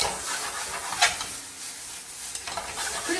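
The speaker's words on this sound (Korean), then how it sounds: "자, 요렇게 볶습니다" Udon noodles sizzle and scrape in a hot pan as they are stir-fried, a steady hiss with occasional louder clatters of the utensil against the pan.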